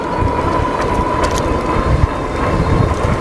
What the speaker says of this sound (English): Boy, that wind is moving.